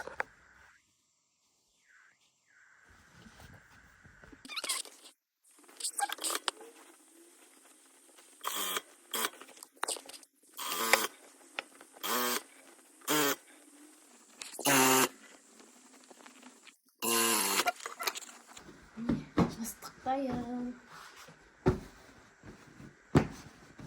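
A sewing machine stitches the side of a pillow made from leftover fabric and synthetic batting scraps, running in short close bursts with pauses between them.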